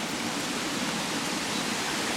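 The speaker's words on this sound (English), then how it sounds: "you can hear water tumbling" Water tumbling over rocks in Boyana Park, Sofia, a steady broadband rush that holds even and unbroken with no voices, close and fairly loud.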